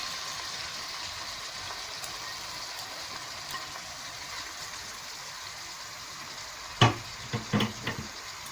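Chopped onion, peas, beans, cauliflower and carrot frying in a kadai with a steady, moderately loud sizzle, followed by several sharp spatula scrapes and knocks near the end.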